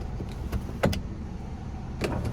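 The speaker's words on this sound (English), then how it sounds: "We can tilt or slide this roof." A 2013 Honda CR-V EX-L's one-touch sunroof motor slides open with a quiet electric whir inside the cabin, punctuated by a few soft clicks and button presses, with no one talking.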